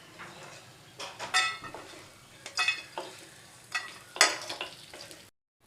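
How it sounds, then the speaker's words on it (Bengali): Bori lentil dumplings frying in hot oil in a pan, with bursts of crackling sizzle and stirring scrapes coming in several separate surges, close and moderately loud, with no talk. "এর মধ্যে আমি বড়ি ভেজে নেব।"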